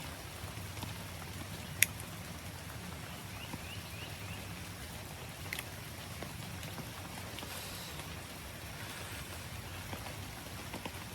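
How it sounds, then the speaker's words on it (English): Rain drips and patters softly on an afternoon outdoors, a steady faint wash of drops with a few sharper close taps standing out, no talking. "the rain is dripping on me"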